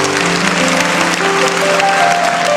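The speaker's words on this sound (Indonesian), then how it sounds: "Kasih tepuk tangan untuk Tuhan" A church congregation claps during a sermon service, a dense and steady wash of applause mixed with sustained keyboard-like music tones.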